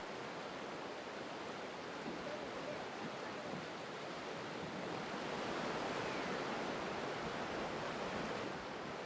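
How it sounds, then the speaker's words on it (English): Steady broadband rushing of a river flowing over rocks in the Shenandoah Valley, continuous and fairly close, with no voices. "just the sound of the river, like rushing over the rocks"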